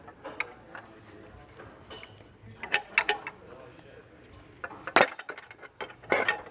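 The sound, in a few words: wrench loosening fan clutch on BMW E46 M3 S54 engine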